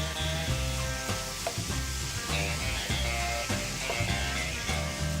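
Minced meat sizzles steadily in a hot pan with onions, a continuous crackling fry with occasional stirring scrapes, close and alone without talk.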